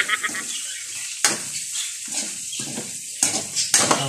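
Lomi noodles being stirred in a pot over medium heat, with soft scraping and several sharp clinks of a utensil against the pot rim, close by and without talk.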